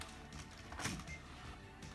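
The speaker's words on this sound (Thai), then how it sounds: "อ่ะกดดีลิทกดเดียว" A single press of the Delete key on a desktop PC keyboard, heard as one brief, close click amid faint room noise while entering BIOS setup.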